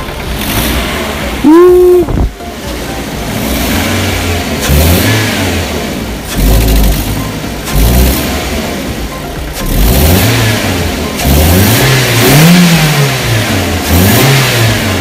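A turbocharged Mitsubishi Xpander engine revs repeatedly, rising and falling in several loud bursts close by, with idling between the blips and a person speaking briefly.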